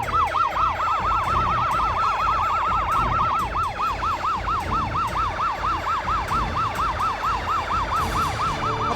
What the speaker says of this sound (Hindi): अभी एम्बुलेंस आ जाएगी